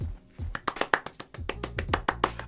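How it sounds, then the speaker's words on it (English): Steady hand clapping, a dozen or so crisp claps in a quick even rhythm, close and fairly loud. "they're going to hear me clapping"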